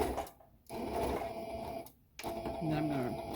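Sewing machine stitching fabric for a DIY face mask, a steady close mechanical whirr that stops briefly twice and restarts, with some background murmur.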